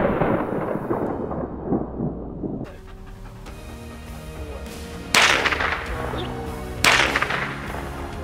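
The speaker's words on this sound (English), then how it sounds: "right now what we're gonna be doing is some gunfire desensitization with some of our protection dogs and also our police dogs" Gunshots fired near German Shepherd protection and police dogs in training: three sharp, loud reports spaced a couple of seconds apart, each with a ringing tail, while a dog pants heavily close by.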